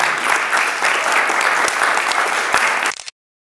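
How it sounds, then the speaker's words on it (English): Sustained applause from a premiere audience in Dubai for Liam Neeson, dense and steady clapping from a crowd that cuts off abruptly near the end. "Can I get a big round of applause, please, for Liam"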